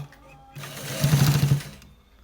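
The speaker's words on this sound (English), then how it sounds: "We are stitching the top part to get what we want." A sewing machine stitches the top part of a pair neck design. A low hum builds into a loud, fast burst of rapid stitching in the middle, then eases off.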